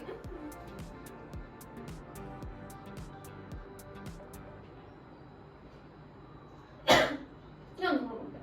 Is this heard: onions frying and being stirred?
no